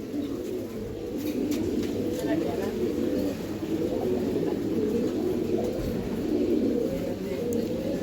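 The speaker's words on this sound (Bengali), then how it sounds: "এই আরেক পেয়ার কবুতর এটা এসপার আর ওসপারের কবুতর এটা বুড়া জাতের" Breeding pigeons of an old lineage, kept at a pigeon farm, coo softly and continuously nearby, a low burbling murmur with faint rustling.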